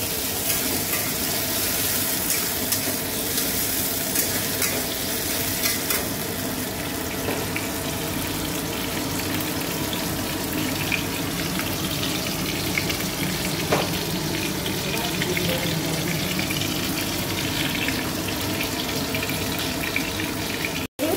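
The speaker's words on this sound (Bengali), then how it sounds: "আলুটা হালকা হালকা ভাজা ভাজা হয়ে এসেছে" Potatoes fry in a pan with a continuous, even, close-up sizzle and crackle that holds steady throughout, with no talking.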